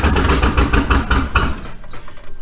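A Ford Model A hot rod engine cranking over as it tries to start after sitting, loud and close, with a rapid pulsing rhythm that fades out toward the end.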